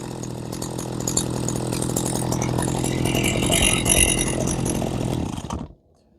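A Husqvarna 40 chainsaw engine running at a steady, slightly high idle after adjustment, close and loud with a buzzy, rattling tone, then cutting off abruptly near the end into silence.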